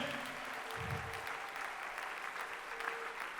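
A congregation at Sunday mass applauds during a prayer service, continuous even clapping from a crowd filling the room, with faint voices underneath.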